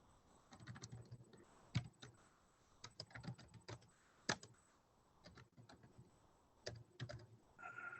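Fingers tap on a computer keyboard in uneven bursts, quiet and close, with a few sharper key strikes and short pauses between runs of keystrokes.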